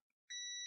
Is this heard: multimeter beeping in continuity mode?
yes